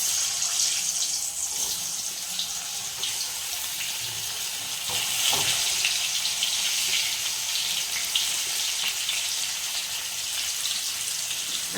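Sweet potato pieces dropped into well-heated ghee give a steady, close hiss and crackle of frying that runs evenly throughout, with a few louder bubbling pops along the way and no voices.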